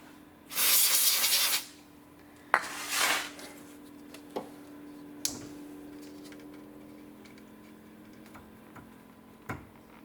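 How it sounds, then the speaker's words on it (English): Spray lubricant hisses from an aerosol can into the rear ABS sensor hole of a Saab 9000, in two short bursts, followed by a few sharp ticks and clicks of parts being handled over a quiet background. "I'm going to lube up that hole"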